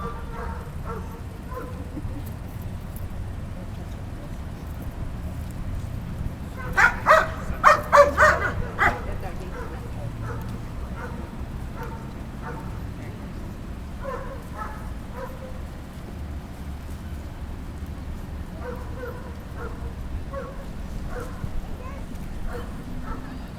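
German Shepherd police dog working an article search at a demonstration, giving a short burst of barks and yips around the middle, heard over steady outdoor background noise.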